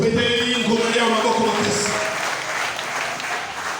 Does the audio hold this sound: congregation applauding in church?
yes